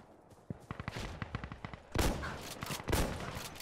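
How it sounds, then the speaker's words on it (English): Gunfire in the shooter game Insurgency: Sandstorm: a rapid string of crisp shots gives way to heavier, booming blasts, loud and close, with echoing tails between them. "Oh, they're shooting each other."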